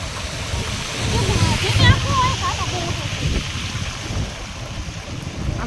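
Water rushes continuously under gusts of wind noise, while people talk over the flow.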